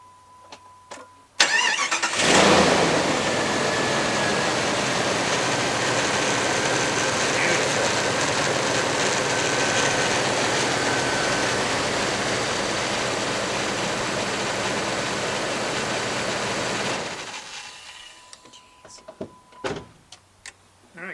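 Jeep Grand Cherokee ZJ with a 5.2-liter 318 V8 cranks and fires up, then settles into a steady, close idle rumble for about fifteen seconds before cutting off, followed by a few faint knocks.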